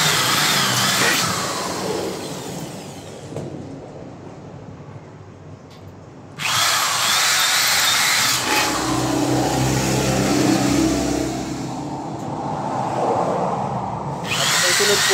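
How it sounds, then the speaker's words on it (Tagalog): A small electric drill bores four marked holes while building a homemade automatic foaming machine, its motor whining in loud bursts with a short lull between runs, and no talking. "maliit lang po yan na drill. Para madali lang po tayo makapagbutas. Butasin po yung 4 na butas na yon,"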